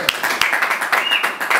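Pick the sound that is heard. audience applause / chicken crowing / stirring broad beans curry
audience applause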